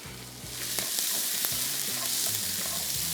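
Ginger and garlic frying in a pan for a dry chicken dish, a loud, dense, continuous sizzle up close, with low knocks and scrapes from stirring under the hiss and no voices.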